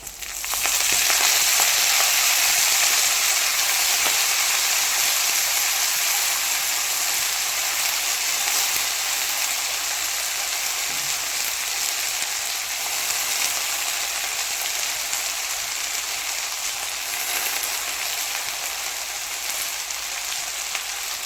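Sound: fenugreek leaves frying with browned garlic

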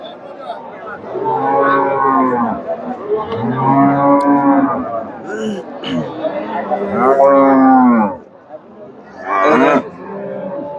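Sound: cows mooing at a cattle market

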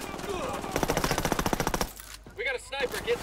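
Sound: gunfire in the video game Ghost Recon Wildlands

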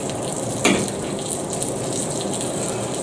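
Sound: fried egg sizzling in a pan as it is flipped

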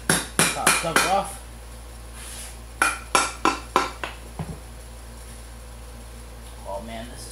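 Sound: hammer popping cover off gearbox

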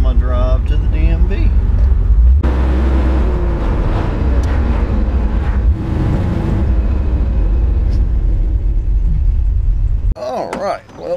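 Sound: 1980 Camaro 2nd Gen engine while driving

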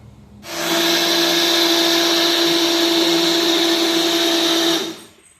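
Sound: electric blender churning buttermilk

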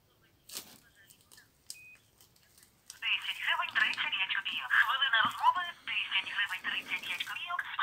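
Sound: call tone on a retro mobile phone from Spain

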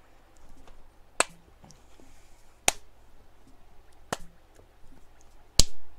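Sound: hand clapping to keep rhythm while playing

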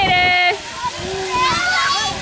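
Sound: water splashing as children play in it

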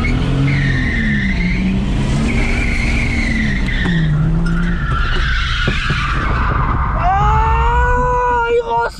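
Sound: Subaru drifting, tires skidding after pulling the handbrake

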